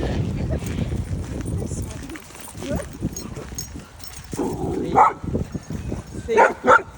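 A dog grumbles and vocalizes at a dog park with other dogs around, short throaty sounds breaking out in the second half over steady nearby talking.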